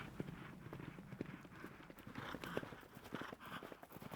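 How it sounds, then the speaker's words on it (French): Thoroughbred racehorses at a slow hunting gallop on a French breeding and training ground, a muffled, continuous rolling clip-clop of hooves at moderate distance, fairly faint. "Ils font un galop de chasse tout doucement."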